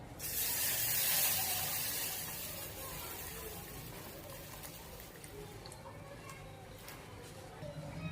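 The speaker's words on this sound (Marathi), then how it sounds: "काजू आणि बदाम आपले फ्राय झालेले आहेत, त्यामध्ये आपण अर्धा लिटर हे दूध ओतून घेऊया।" Milk poured into a pan of cashews and almonds fried in ghee sets off a loud hissing rush for about two seconds, then settles into a quieter, steady bubbling sizzle.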